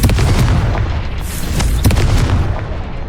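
A Confringo fire spell explodes in the game Hogwarts Legacy, giving a loud, deep booming blast with a rumbling tail and a few sharper cracks that carries through the whole clip.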